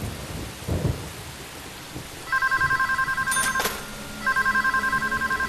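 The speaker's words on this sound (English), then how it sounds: "The phone is also ringing." A telephone rings in the horror video game Deadly Premonition, with two bursts of steady electronic trilling over a backdrop of rain and a rumble of thunder.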